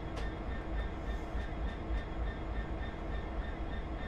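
A train rumbles along in Train Simulator 2016, a loud, steady low drone with rhythmic wheel clicks and faint squeals layered over the continuous rolling noise.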